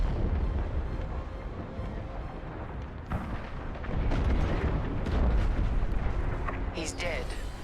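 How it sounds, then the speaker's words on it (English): A frigate explodes in the Star Wars Squadrons space combat game, a loud, deep rumbling blast with rolling booms that swell and crackle over several seconds while voices talk underneath. "The frigate is about to explode."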